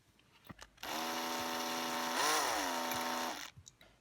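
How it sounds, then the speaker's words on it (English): A battery drill, used freehand to repair a broken VW Golf Mk IV dash air vent, whirs steadily for about three seconds, its pitch rising briefly midway, with a few faint clicks before and after. "battery drill."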